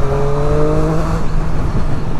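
A 2022 Triumph Street Triple RS motorcycle ridden under load, its engine a loud, steady close drone with rushing wind over it.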